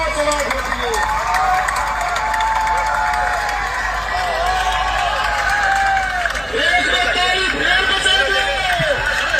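A crowd at a gathering in Karnal, Haryana claps and cheers in a dense, steady wash of applause, with a voice over a loudspeaker talking above it throughout.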